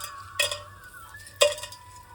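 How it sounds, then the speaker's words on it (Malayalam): Whole spices such as cloves and cinnamon dropped into ghee in a pan, two distinct clinking impacts about a second apart over a faint background hum and soft sizzle, no talk. "നമ്മുടെ ഹോൾ സ്പൈസസ് എല്ലാം കൂടെ നമ്മൾ ഇടുകയാണ് ചെയ്യുന്നത്"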